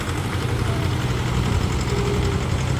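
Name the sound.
tractor engine running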